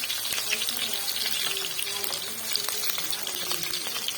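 Chopped onion and garlic frying in hot ghee, a soft continuous sizzle with light stirring clinks, fairly quiet and steady throughout.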